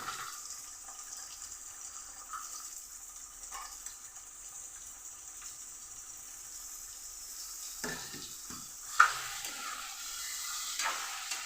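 Chopped beetroot and carrot fry in a hot pan with a steady soft sizzle throughout, briefly stirred with a spoon near the end and a single clink against the pan.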